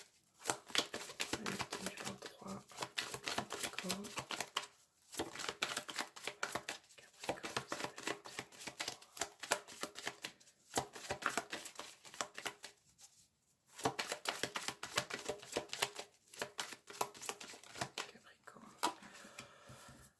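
Tarot cards are shuffled for a reading in soft, quiet bursts of riffling and flicking, separated by short pauses.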